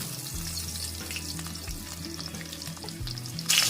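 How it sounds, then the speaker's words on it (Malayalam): Shallots and popped mustard seeds fry in hot oil for a jackfruit-skin curry, giving a loud, dense sizzle with crackling and low rhythmic stirring thumps, ending in a brighter burst of hiss. "അപ്പൊ നമ്മുടെ കടുക് പൊട്ടി നമ്മൾ അടുത്ത ചുമന്നുള്ളി ഇടുവാണ്"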